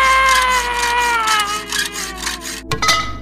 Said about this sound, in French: une scie qui vole toute seule